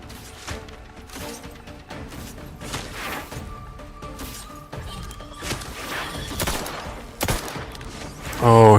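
Gunfire in The Outer Worlds 2 on very hard difficulty, a steady run of shots and crashes with impacts and mechanical clatter throughout, louder bursts near the end, and a voice talking over the action.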